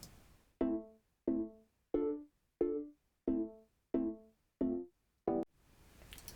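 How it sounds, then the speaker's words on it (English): Dry synth pluck melody from a pop record, heard with no effects: eight evenly spaced bright plucked notes, each with a sharp attack and quick decay, playing alone and up close before a brief noisy swell at the end. "the other thing that I'm affecting here is this main pluck right here"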